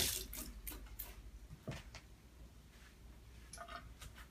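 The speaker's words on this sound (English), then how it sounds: "Let me wash my hands." Hands being washed under a running kitchen tap in a home kitchen while making paleo waffles, with a steady close water hiss broken by scattered splashes and clinks across a few seconds, and no talking.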